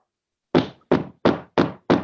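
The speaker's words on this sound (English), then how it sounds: "I hear a knocking at the south entry." Five firm knocks on a door as a live stage sound effect in a Macbeth performance, evenly spaced and close, each a sharp thud with no talk over them.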